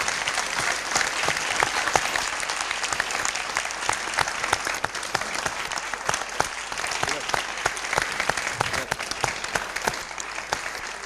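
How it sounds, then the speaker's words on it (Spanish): An audience applauds the guests at the close of a talk with Humberto Maturana, dense sustained clapping that stays steady and full for about eleven seconds without any speech. "Les pido que demos un tremendo aplauso a nuestros invitados."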